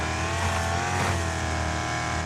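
C Class race cars in the racing video game Wreckfest, engines droning loudly and continuously with a dense mechanical roar and a slight surge near the middle.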